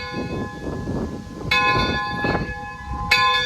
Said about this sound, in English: You're gonna pull the bell